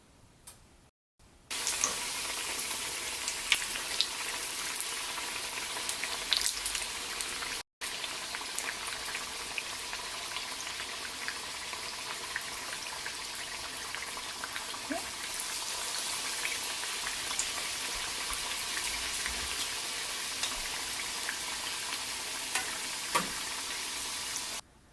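Plantain bajji (raw banana fritters) deep-frying in hot oil, a steady dense sizzle and crackle running nearly unbroken throughout, close and fairly loud, with a couple of brief cuts to silence and no talking.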